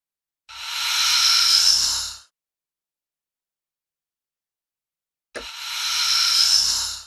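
Two reversed risers from the Sonokinetic Ibrido Zero sample library, each an airy, breathy hiss that swells steadily louder before cutting off abruptly. A few seconds of silence separate the two swells.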